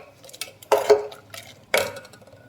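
A spoon knocks and scrapes against a metal pot while lentil curry with ground coconut is stirred, making a few sharp clinks at an uneven rhythm. The sound is close and moderately loud, with no voices.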